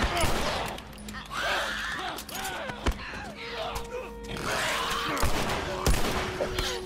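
Bursts of gunfire from the video game The Last of Us pop in a busy scene, with a few sharp shots and a voice talking over the clamor.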